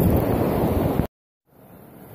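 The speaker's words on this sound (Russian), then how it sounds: "Такие волны красивые." Summer sea waves heard from the shore as a loud, steady wash of surf and wind, cutting out abruptly for a moment before returning much fainter.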